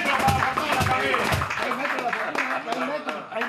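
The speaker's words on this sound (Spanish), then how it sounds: "un fuerte aplauso para Juan Manuel" An audience claps at a charity concert, a burst of close, rhythmic applause fading out while voices talk loudly over it.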